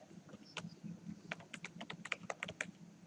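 Keys clack on a computer keyboard in quick bursts of close, crisp taps, with short pauses between runs and no voices.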